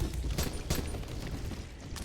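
Gunfire rings out in the zombie video game Dying Light, with several sharp booming shots spaced irregularly over a continuous noisy game background.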